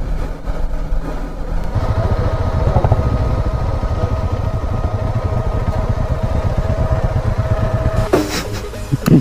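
A motorcycle engine running after arrival at the Matheran hill station, a steady close rumble with some clatter and a brief revving near the end, with no voices.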